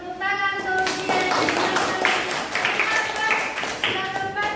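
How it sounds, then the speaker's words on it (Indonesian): Classroom of students clapping for a classmate who has just presented, a dense burst of hand claps over several seconds mixed with children's voices and tonal sounds. "beri tepuk tangan untuk Dian"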